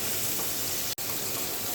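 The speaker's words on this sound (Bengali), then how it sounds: "আমি চিংড়ি মাছ আর পেঁয়াজটা একটু ভেজে নিলাম।" Bagda shrimp and onion frying in a pan, a dense continuous sizzle up close, cut by a brief dropout near the middle, with no voices.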